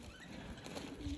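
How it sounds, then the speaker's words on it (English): Pigeons from a mixed flying flock making a brief low coo at moderate distance, faint against outdoor background noise. "But, yeah, the birds are out flying."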